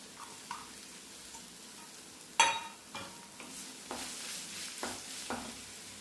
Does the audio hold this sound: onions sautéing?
yes